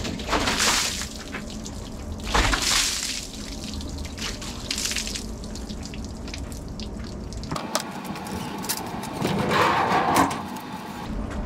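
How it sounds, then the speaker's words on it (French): A bucket of water is thrown onto the roof of a VW T3 van over a newly fitted skylight, giving broad splashing gushes followed by running water and dripping across the roof. "On va faire la même chose, on va jeter le seau d'eau, on verra bien."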